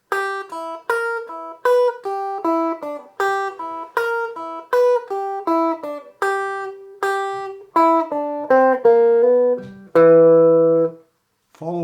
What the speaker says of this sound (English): in the beginning we have this finger picking lick